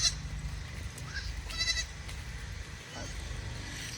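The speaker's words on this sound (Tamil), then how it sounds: "ஆட்டுக்குட்டிலாம்" Young goats bleat a few times in a village yard, fairly close, their short wavering calls rising over steady background noise and nearby voices.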